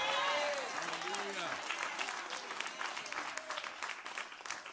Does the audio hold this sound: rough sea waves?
no